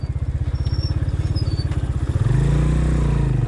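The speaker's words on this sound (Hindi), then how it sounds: "देखें आगे से बाइक आ रहे हैं" Motorcycles come along a wet off-road track after rain, a steady pulsing engine throb that swells and changes pitch as they draw near, loud and close, with no talk.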